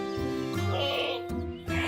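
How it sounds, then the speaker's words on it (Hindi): A male goat bleats loudly and close by in a long, wavering call, followed by a shorter second bleat after a brief pause, with no talk over it. "ये बकरा कितना शरीर है"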